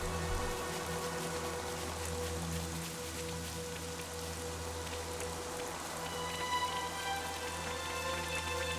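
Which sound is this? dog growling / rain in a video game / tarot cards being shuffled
rain in a video game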